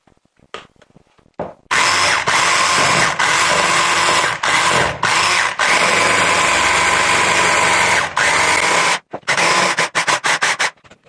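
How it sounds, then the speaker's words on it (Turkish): Electric mixer whisking red sponge cake batter, a loud continuous motor whir that runs in long stretches, broken by several brief stops and ending in a string of short bursts. "Neyse şunu bir çırpalım"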